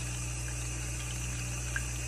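Water steadily running into a balloon, a constant close hiss and gurgling flow with a faint hum, unbroken and even in level.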